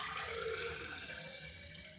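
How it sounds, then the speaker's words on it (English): Water runs steadily from a tap into a Christmas cup for about two seconds, a close, even rushing and filling sound with no voices. "I'm gonna fill this with water."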